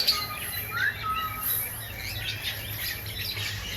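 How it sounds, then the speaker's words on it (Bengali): Parrots and macaws, including blue, golden, green and African grey parrots, chirp and tweet inside a walk-in aviary at Gazipur Safari Park, a dense chorus of overlapping high calls with a few sharper squawks, steady and moderately near. "তো এখানে প্রবেশ করলে যে পাখির কিচিরমিচির শব্দ"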